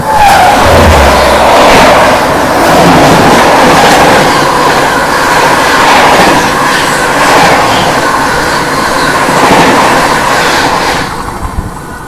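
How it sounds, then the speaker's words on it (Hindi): The Lucknow–New Delhi Swarna Shatabdi Express rushes past at close range, a loud, steady roar of wheels and rolling coaches with rhythmic clatter lasting several seconds before easing off at the end. "यहाँ पर आ रही भाई लखनऊ नई दिल्ली स्वर्ण शताब्दी एक्सप्रेस"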